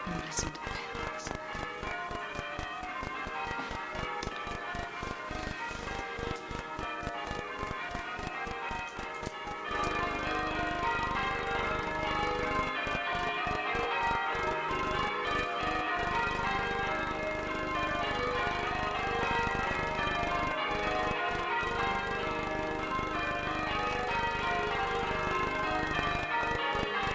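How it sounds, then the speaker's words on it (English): Bells ring continuously in a dense, overlapping peal, with rapid rhythmic strikes and sustained ringing tones throughout. "And listen to the bells."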